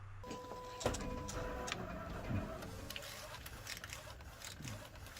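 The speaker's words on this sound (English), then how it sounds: "So what you'll see we're doing now is we're printing the white underbase on top of this color ink layer." A Freejet 330TX DTG printer prints a white underbase ink layer over color ink, a faint mechanical whir with ticking carriage clicks and soft thumps, heard quietly at moderate distance.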